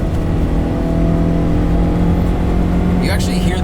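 A Mercedes 190E 2.3 16v engine drones loudly and steadily from inside the car with a deep, throaty induction note, while people talk over it.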